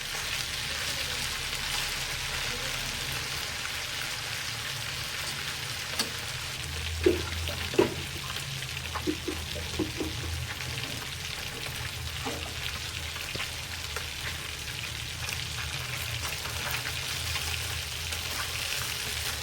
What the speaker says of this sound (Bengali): সরিষার তেলে ফ্রাই করতেছি।